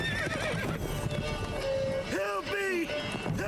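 The horse Roach from The Witcher 3 whinnies in a series of rising and falling neighs over trotting hoof clip-clops, with game sounds and voices mixed in throughout.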